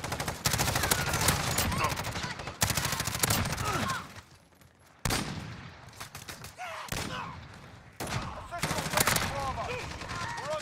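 LMG machine gun fire in a shooter video game, with long, rapid, loud bursts broken by short pauses and a quieter gap midway, under occasional talk.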